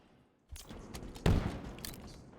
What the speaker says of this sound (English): Gunfire rings out across the arena.